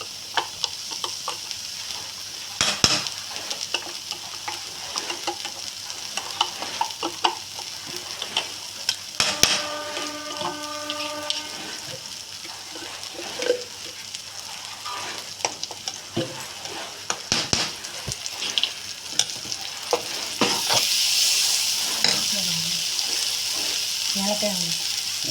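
A spoon stirs and scrapes kolukattai filling sweetened with ghee in a pan, faint sizzling under scattered clinks and scrapes at a moderate distance, with a brief louder hiss near the end.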